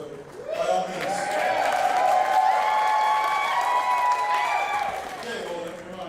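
A crowd at the National Park Service cherry blossom peak bloom announcement applauds with long, loud whooping cheers that swell quickly, hold, then taper off.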